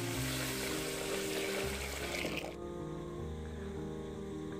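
Water poured into a vessel of rice to soak it for balloon vine leaf dosai batter, a loud rushing pour that stops abruptly, followed by quieter lingering trickle and room noise.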